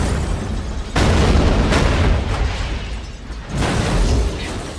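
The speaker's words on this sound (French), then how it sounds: "c'est l'explosion de cette voiture." A car blows up in a Fast and Furious movie stunt effect, a loud booming blast followed by roaring rumble and a second heavy burst a few seconds later, no voices.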